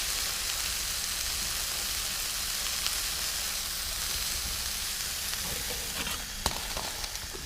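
Garlic sausage sizzles in a pan while cooking outdoors on a winter forest hike, a steady dense crackling hiss that runs unbroken and fairly close, with no one speaking.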